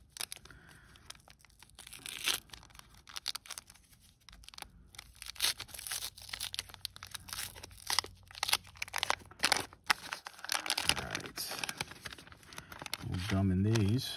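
A 1983 Fleer baseball card wax pack is torn open up close, its waxed paper wrapper giving a series of crisp rips and crinkles over several seconds, with brief talk heard in between.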